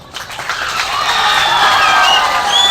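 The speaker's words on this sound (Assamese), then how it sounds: "চবে এটা হাত চাপৰি।" An audience claps together at a higher secondary school farewell ceremony in Assam, with a dense, sustained round of applause and a little crowd noise that builds and holds strong throughout.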